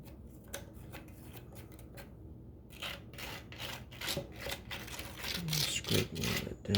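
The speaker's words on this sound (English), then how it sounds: "Scrape a little bit down in there." A tool scrapes a freshly poured concrete vessel from a red and gold pour, making short rasping strokes at close range that grow louder and busier toward the end.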